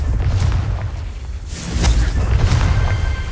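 Confringo blasting spell explosions in the Hogwarts Legacy video game, loud deep booms with crackling bursts swelling twice in close succession.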